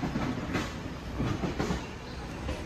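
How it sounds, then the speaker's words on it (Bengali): The Jagannath Express runs between Kolkata and Puri, heard from inside as a steady rumble of a moving train with rhythmic clickety-clack beats of the wheels at moderate volume and no talking. "আর ট্রেন যাচ্ছে।"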